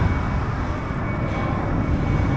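Aircraft passing overhead along an Antalya route toward Lara, heard as a steady, broad low rumble with no clear approach or fade, moderately loud, with no talk over it.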